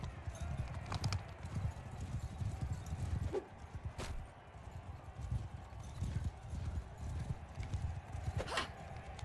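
Horses galloping in the medieval battle game Mount & Blade II: Bannerlord, a dense, continuous drumming of hooves with occasional sharp clashes and a whinny, moderately loud throughout.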